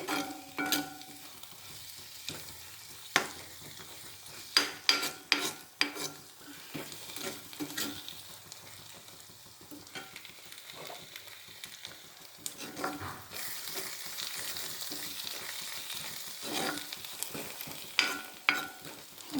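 Food fries and sizzles steadily in a pan while pachadi is being made, with a spoon repeatedly stirring and scraping, close and continuous with no talking.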